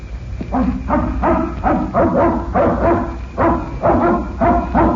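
A dog barks repeatedly in a steady series of loud, close woofs, the barks coming in quick rhythmic bursts with brief pauses.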